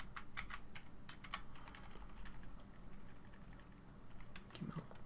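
Typing on a computer keyboard, a quiet close patter of rapid key clicks in irregular bursts throughout, with no voices.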